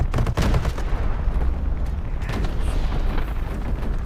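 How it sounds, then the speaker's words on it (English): A Sherman IC Firefly tank fires its long 76mm gun in the mobile video game War Thunder Mobile, with a heavy boom at the start and loud, rumbling battle noise continuing throughout. "Let's just keep shooting it until it explodes."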